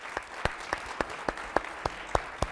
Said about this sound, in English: So, give an applause.